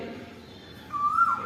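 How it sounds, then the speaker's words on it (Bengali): A cuckoo calls once outdoors as a short, clear whistled note. It rises out of quiet background hum near the end and sounds moderately distant. "কোকিল ডাকছে, কোকিল ডাকছে।"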